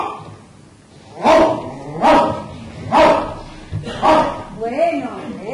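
A person imitates a dog barking, giving four or five loud, evenly spaced "woof" sounds up close, the last one trailing off.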